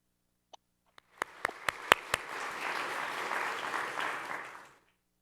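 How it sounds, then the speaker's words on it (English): A few scattered claps lead into a full round of audience applause at a health equity accelerator expo; it swells steadily, holds for several seconds, then fades out. "I would love to hear a round of applause"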